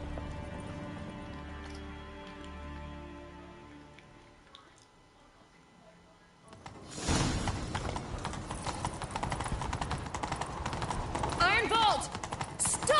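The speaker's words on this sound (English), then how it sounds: "Grab a horse, we'll chase him down." A horse gallops during a chase in the video game The Witcher 3: after a quieter stretch, rapid rhythmic hoofbeats come in loud and close, continuing steadily to the end.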